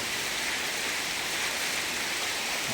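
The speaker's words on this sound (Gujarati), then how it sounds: "આજે મોરબીમાં વરસાદ ચાલુ છે જુઓ" Steady, dense monsoon rain in Morbi, Gujarat hisses evenly throughout, a continuous wash of falling water with no pauses and no voices.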